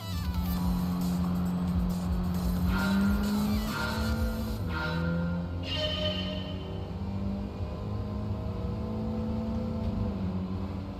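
Race cars in a nighttime race in Gran Turismo 7, a steady continuous engine drone with shifting pitch as the cars run, loud and close throughout, with no talk.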